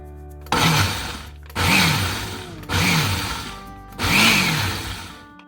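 A countertop blender purees cooked dry lentils into a paste for soup, running in four separate whirring bursts of about a second each with brief pauses between.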